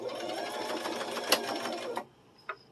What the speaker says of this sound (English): Now when you start out, you want to back stitch just a little bit across the top.